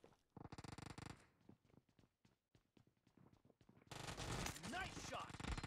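Rapid bursts of gunfire from a PUBG team match, a short clattering volley of close shots followed by dense, loud battle noise with overlapping effects.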